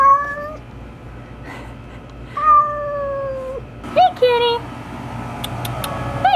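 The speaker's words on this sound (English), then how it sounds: "Hey, kitty. Oh, you're a friendly kitty." A friendly cat meows several times in short, bright calls with pauses between, ending in a quicker cluster of chirpy meows, close and fairly loud.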